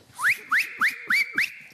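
Canary Islands silbo whistled speech: five sharp, rising whistled syllables in quick succession, loud and clear, with brief gaps between them.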